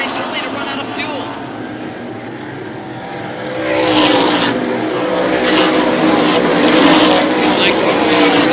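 Race cars roar past at a speedway in a steady, loud engine wash that swells partway through, with an announcer talking over it.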